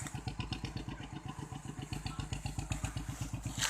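Chugging single-cylinder engine of a homemade E-taen farm truck hauling a load of sugarcane out of a rough field track, a steady rapid thumping rhythm with mechanical clatter, close and continuous.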